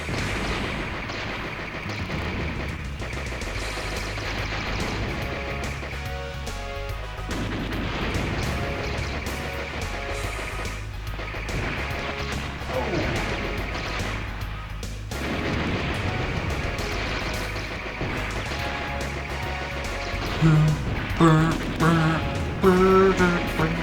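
Bombs exploding in the Blaster Master video game, dull repeated booms mixed into continuous game music and effects, with no clear talking.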